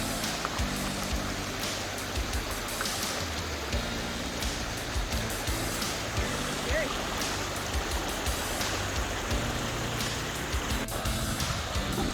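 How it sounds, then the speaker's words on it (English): Spring water at Big Spring in the Sheep Creek Geological Area, Utah, gushes straight out of a mountainside as a constant, full rushing roar heard up close, with someone talking over it. "All that water coming right out of the mountain."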